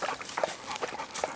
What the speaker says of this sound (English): That is one happy dog.